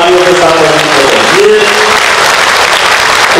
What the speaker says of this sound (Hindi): सभी लोग अपने स्थान पर खड़े होकर जोरदार तालियों के साथ